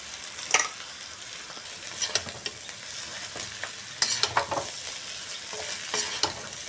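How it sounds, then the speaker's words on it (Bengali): Vegetables with fried onion stir-fried in a pan for egg chow mein, a steady sizzle broken by repeated scraping and clattering strokes of a spatula, close and fairly loud. "পেঁয়াজটা আমার ভাজা হয়ে গেছে, এবার আমি ভেজে রাখা ভেজগুলো দিয়ে দিলাম এর মধ্যে"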